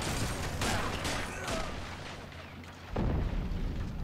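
Tank explodes in the Men of War: Assault Squad 2 war game amid ongoing battle, heavy booms and bursts of gunfire layered in a dense rumbling backdrop, with a loud blast near the end.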